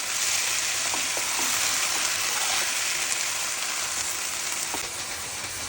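Chopped bottle gourd fries in a hot pan with a dense, steady sizzle and hiss, broken by faint stirring taps, close and continuous.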